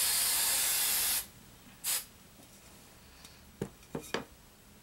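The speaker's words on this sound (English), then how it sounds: "Hairspray in my hair, in my room." A can of hairspray releases one steady hiss of about a second onto long hair, followed by a brief second puff and a few faint clicks and rustles, close and quiet.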